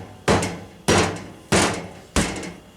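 Four evenly spaced, loud, sharp hammer blows on a Vulcan tire machine, each metallic strike ringing briefly before the next, close by with no talk.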